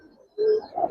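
A male racing or Giribaz pigeon gives a short, close coo, a low throaty note swelling quickly and then fading within a second.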